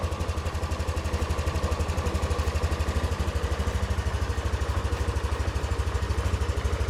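Close, steady putter of a tuned Yamaha Aerox 155 scooter engine idling with a rough, pulsing beat and an unstable idle control, heard alone without voices.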